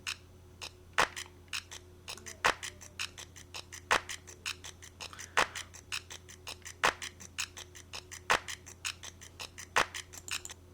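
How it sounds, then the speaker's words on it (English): A rapid pattern of dry electronic claps ticks along, with louder accented hits falling at regular intervals amid quicker, lighter ones. "the other clap has this pattern"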